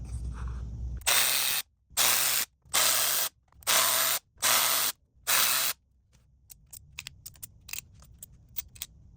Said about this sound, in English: we're going to go ahead and remove each one of these 10mm bolts on each coil pack